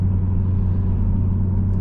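A 2010 Volvo S80 V8 AWD with a customized exhaust drones in a steady, deep, throaty rumble from inside the car while driving, constant in level with no breaks.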